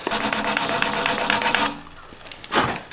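A blade edge being sharpened, the burr worked back and forth in rapid rhythmic rasping strokes up close, then a pause and one final scrape.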